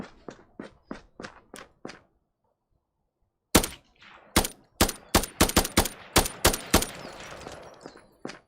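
Gunfire in a VR shooter game played on an Oculus Quest, a row of single shots, a pause, then faster irregular bursts of sharp close cracks.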